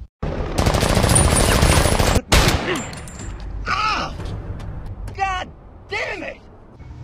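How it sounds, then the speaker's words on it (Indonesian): A rapid burst of loud gunfire in an action film rattles for a couple of seconds, followed by a single sharp shot, then voices shouting over fading background noise. "memberikan tembakan ke tangan Max"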